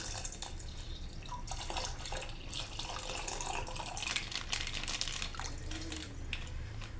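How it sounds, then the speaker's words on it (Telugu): Milk poured into semiya payasam in a cooking pot, a steady close liquid pour with splashing and drips alongside faint crinkling, continuous for several seconds without speech. "పాయసంలో పాలు కూడా మొత్తం వేసేస్తుంది."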